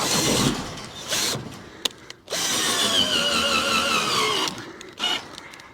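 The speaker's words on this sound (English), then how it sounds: "my poor little drill really ain't up to the task" A small, underpowered drill whirs in bursts, straining as it bores into a wooden fence post, its pitch wavering, with brief pauses and clicks between runs.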